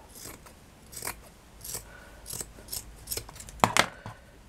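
Scissors trimming fabric for a patchwork bag, a series of about eight crisp snips in an uneven rhythm, close and fairly quiet in a still room.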